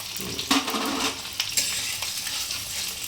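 Onions sizzle gently in a pan for chilli chicken, a steady soft hiss with a few louder scrapes and knocks from stirring, heard close up.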